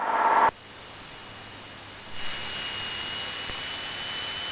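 A small general aviation airplane's engine is throttled up to 2,000 RPM for a run-up. A steady, close broadband roar grows louder about two seconds in and then holds, with no talk.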